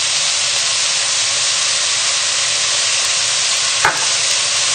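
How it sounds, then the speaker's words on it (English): Red onions seasoned with salt and pepper fry loudly in a pan for caramelised onion chutney, a dense, unbroken sizzle close by with a single brief clink of the stirring spoon. "And just stir this around"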